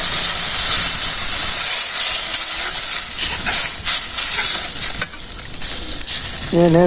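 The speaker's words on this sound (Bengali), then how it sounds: "এই যে জল দিয়ে দিতেছে" Water poured into a hot pan while cooking fish with vegetables and potatoes in a village kitchen, a loud close steady steaming hiss and sizzle that runs throughout, with brief clatter near the end.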